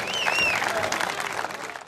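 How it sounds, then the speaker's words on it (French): A crowd applauds two competitors at the Saint-Raymond forestry festival in 2012, with steady dense clapping and a few whistles. A voice carries over the clapping. "Une bonne main d'applaudissements pour ces deux compétiteurs!"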